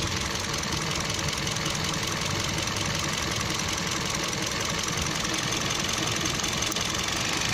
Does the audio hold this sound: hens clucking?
no